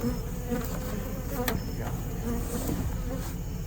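Honeybees buzzing inside two closed hives with screened bottoms while they are moved at night, a steady close drone that holds throughout with a few soft knocks, and no talking.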